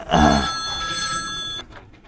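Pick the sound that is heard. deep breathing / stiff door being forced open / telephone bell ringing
telephone bell ringing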